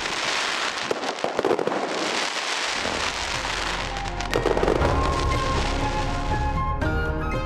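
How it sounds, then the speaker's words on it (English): Festival fireworks over Penghu, Taiwan crackle and burst in a dense, continuous barrage, loud and close, with sharp pops over a rumbling wash. "a magnificent display of fireworks"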